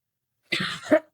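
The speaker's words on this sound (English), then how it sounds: "I'm going to cough on you." A single close, sharp cough, a quick burst followed by a second rougher hack, with silence before it.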